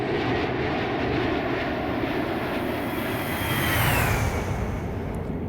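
An Airbus A321 with IAE engines roars past in a flight-simulator flyby, a loud steady jet drone whose pitch sweeps downward as it passes, heard alone.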